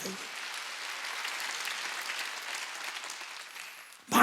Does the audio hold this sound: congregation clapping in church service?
yes